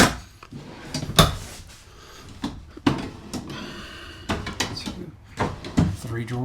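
Several sharp wooden thuds and slides of drawers being opened and shut inside a 2026 Grand Design Reflection 322FKTS RV, irregular and close, with brief speech between them.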